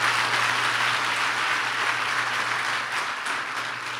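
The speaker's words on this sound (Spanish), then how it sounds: "Yo estaría dándole un aplauso al Señor, pero fuerte como Él se lo merece." A church congregation applauds, a continuous broad rush of many hands clapping at a moderate level that eases slightly near the end, with a low steady hum beneath.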